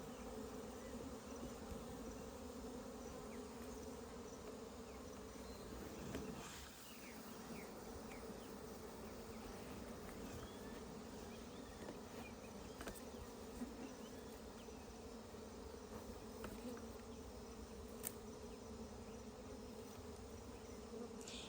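Bees hum steadily around their former nest in a tree trunk, a dense, continuous buzzing swarm close by with individual insects occasionally passing nearer, no voices.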